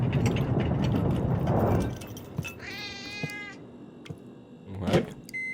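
A cat meows in the video game The Operator, a clear rising meow standing out over a low mechanical hum, with a second short cat call near the end.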